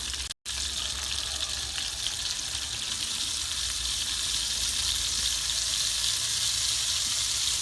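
Margarine sizzles in a hot pan on a cooker, a bright, steady hiss of frying fat that continues evenly after a brief dropout at the start, with no one talking.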